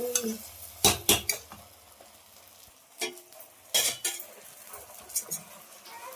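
Gongura chicken curry stirred in a pan: scraping spoon strokes and clatters against metal come in irregular bursts over a low sizzle, close and clear.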